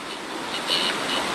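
A steady high-pitched whine from a Dremel rotary tool spinning fast, with a slight rise in pitch partway through, close and continuous.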